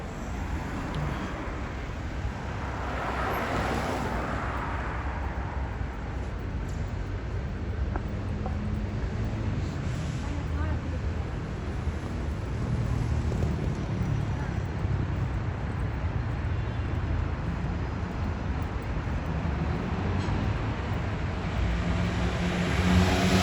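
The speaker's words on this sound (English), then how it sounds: "you will see the stream of traffic and the noise" Street traffic in Athens, Greece, a constant dense roar of passing cars and engines near a busy avenue, steady throughout with occasional swells, while someone talks over it.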